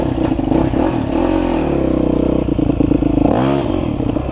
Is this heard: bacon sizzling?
no